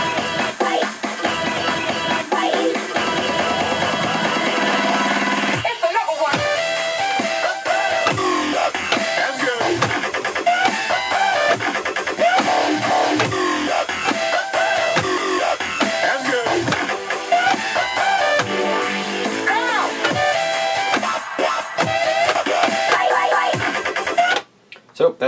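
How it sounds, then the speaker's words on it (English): A dubstep build-up is bass-cut on the crossfader, the full track rolling in loud and dense before a sudden drop, then returning in choppy bursts as the low end is repeatedly cut in and out. "This technique is where we basically just move the crossfader right and left to hear different parts of the track."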